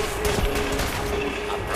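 Gunfire aimed at the player in Fallout 4, a steady dense rattle of shots with a brief sharper crack near the start, loud and continuous over an ambient game backdrop with no talking.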